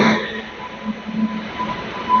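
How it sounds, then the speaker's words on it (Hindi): A WG9 locomotive passes at a railway station on the Giridih–Madhupur line in Jharkhand, giving a low rumbling roll with faint tonal hum and rail noise. "लोकोमोटिव WG9 लोकोमोटिव भाई साहब देख सकते हैं जा रहा है यहाँ पे"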